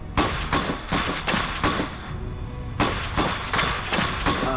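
Gunfire in the Iron Harvest strategy game sounds as repeated loud bursts of shots in two clusters with a brief lull between, dense and close, backed by a steady battle rumble.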